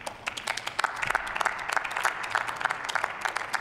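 Sustained applause fills a parliament chamber, many hands clapping densely and steadily throughout, with a few sharper claps standing out from the crowd.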